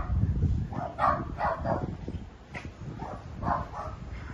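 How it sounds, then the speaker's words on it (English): Dogs barking somewhere along a street in La Perla, San Juan, Puerto Rico, a few faint, distant bursts of barks separated by quieter gaps. "Yeah, I hear the dogs."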